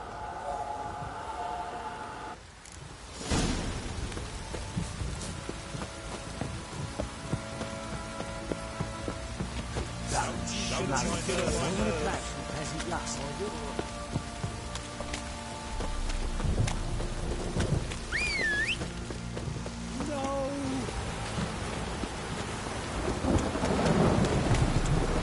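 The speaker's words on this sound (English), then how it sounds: "Don't stop raining, my arse will rot off." Rain and rolling thunder from a PS4 video game, a steady downpour with deep rumbles running throughout, some game sounds and brief tones layered over the storm.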